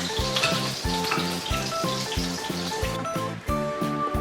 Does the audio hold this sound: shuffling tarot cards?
no